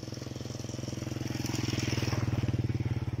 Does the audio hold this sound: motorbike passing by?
yes